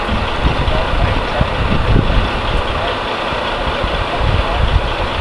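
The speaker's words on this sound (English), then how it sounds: "they're doing a little test on the engine, just putting it in forward and reverse" A boat engine runs steadily while being shifted between forward and reverse at launch, a continuous loud low rumbling idle with irregular churning pulses, heard close and alone.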